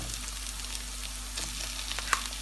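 Mashed boiled potato goes into tomato paste frying in a pan for a crispy potato börek filling, giving a soft steady close sizzle with a faint scrape near the end.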